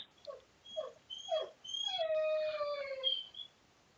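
A pet dog howls nearby, starting with a few short yelping whines that rise into a long, sustained, wavering howl before trailing off, heard on its own without talk.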